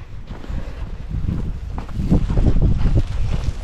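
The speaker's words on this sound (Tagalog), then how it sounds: "Mahangin." Blustery wind rushes and buffets the microphone outdoors on a cold day in Finland, a steady low roar that grows stronger partway through.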